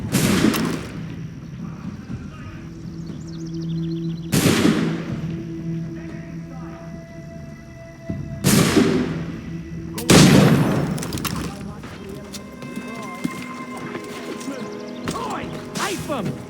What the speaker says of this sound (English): Shoot 'em before they reach it! Use those spare muskets and you don't reload.